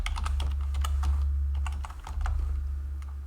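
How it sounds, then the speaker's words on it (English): Rapid keystrokes on a computer keyboard as a password is entered on a Linux machine, a close, steady run of light clicks over about three seconds with no talking. "We need to type in the password."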